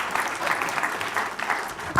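An audience at a summit keynote breaks into steady, sustained applause from a crowd, with clapping continuing close and full throughout.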